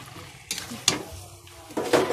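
Chicken kosha being stirred and fried in a pan after the lid comes off, with intermittent scraping strokes over a soft, steady sizzle, up close.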